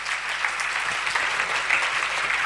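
A hall audience at a devotional Shri Ram katha closing ceremony claps together in a dense, sustained round of applause, even and moderately near throughout.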